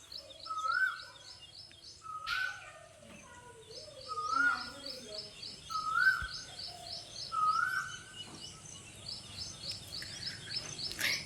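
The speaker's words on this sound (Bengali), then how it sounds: "কোকিল ডাকছে" Koel-type cuckoo calling outdoors in a quiet rural morning beside hills and rice paddies, with repeated rising calls spaced every second or so, over steady chirping of other birds and insects in the background.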